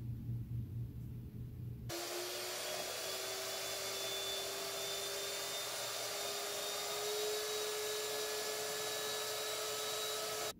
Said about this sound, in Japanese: それでは泡立てていきます。